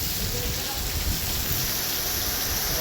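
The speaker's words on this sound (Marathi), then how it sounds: "फुल एकदम जोरात पाऊस आहे का." Very heavy rain pouring down, a continuous dense hiss and patter of drops on surfaces, loud and steady from start to finish with no pauses.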